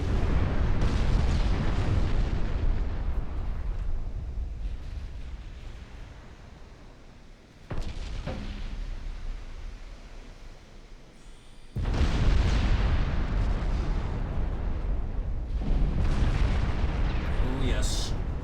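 Naval guns and shell explosions from a battleship-era naval combat game, Ultimate Admiral Dreadnoughts, form a dense, continuous barrage of booms and rumbling blasts that dips briefly mid-way before surging loud again, with speech over the top.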